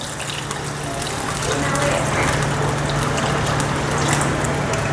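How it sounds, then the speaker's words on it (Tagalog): Water pours steadily into a pot of tomato paste sauce for sweet and sour pork and beans, a continuous close splashing with a low hum underneath. "lagyan na natin ito ng water."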